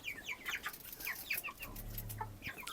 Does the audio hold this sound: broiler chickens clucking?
yes